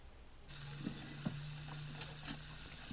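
Steak sizzling in a frying pan, a steady low sizzle with a few sharp crackles and pops spread across the moment, fairly close and without any talking.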